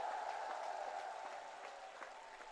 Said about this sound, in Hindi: जोर से तालियां उन वैज्ञानिकों के नाम पर बजाइए